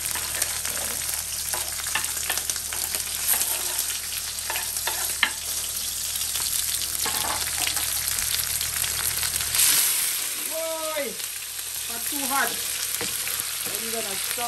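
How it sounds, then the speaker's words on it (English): Steady crackling sizzle of fresh vegetables sautéing in a hot pot, with occasional stirring scrapes and clinks, close and continuous. "How we like to hear the pot of sizzle."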